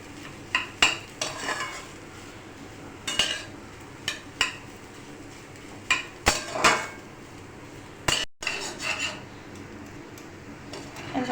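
Boiled potato is fried in ghee for a sweet potato sheera. Repeated sharp spatula scrapes and knocks against the pan come in irregular bursts over a quiet background sizzle.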